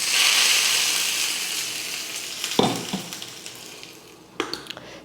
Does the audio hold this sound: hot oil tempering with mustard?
yes